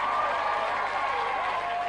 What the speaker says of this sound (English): Give your applause.